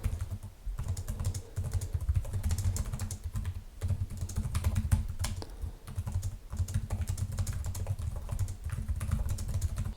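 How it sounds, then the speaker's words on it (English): Rapid typing on the keyboard of an ASUS Vivobook 16 OLED laptop, a close, continuous patter of soft key clicks with brief pauses, over a low background hum. "I'll do a quick type here."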